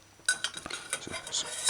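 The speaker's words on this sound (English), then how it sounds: "use a big cooking spoon and remove the spices from the heating oil" Big metal cooking spoon scraping and clinking against a pot while scooping burnt pimento berries and cloves out of heating oil, a quick series of close metallic clinks and scrapes over faint sizzle.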